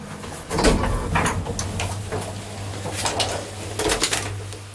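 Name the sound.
elevator inner doors being opened manually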